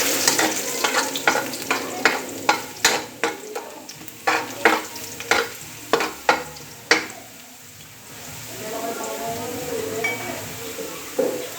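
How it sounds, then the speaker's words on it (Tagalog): Garlic being sautéed in a pan makes a close, loud run of sharp stirring scrapes and clinks over a sizzle, the scraping stopping midway and leaving a steadier frying hiss. "Okay, maglalagay na tayo ng bawang, magigisa na tayo."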